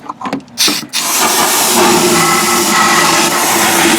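Mass airflow sensor cleaner sprayed from a can onto a 1998 Toyota 4Runner V6 during an oil change: a few short spurts, then a loud, sustained close hiss of aerosol spray, no voices.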